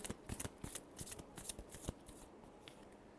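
Tarot cards being shuffled by hand, a close series of quick riffling flutters and crisp slaps that bunch together, then thin out toward the end, quiet with no talking.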